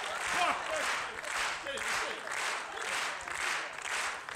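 An audience claps enthusiastically at a live show, sustained applause swelling in waves and filling the room throughout.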